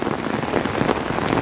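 Heavy rain pours down steadily in a rural village, a dense, continuous hiss of drops drumming on surfaces close by, with no voices over it.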